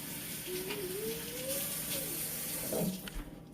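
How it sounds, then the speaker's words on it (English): A kitchen sink tap runs steadily while hands are washed under it, a soft continuous water hiss with a few splashy changes and a faint voice partway through. "So I got to wash my hands"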